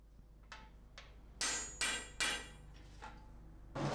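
A coppersmith hammers rivets on a handmade copper pot, with several sharp metallic strikes in an uneven rhythm: lighter taps first, then heavier ringing blows, close and clear with no talking.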